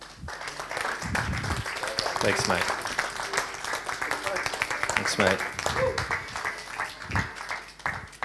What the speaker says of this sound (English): please, if I can ask you to stand up and give Adam a big round of applause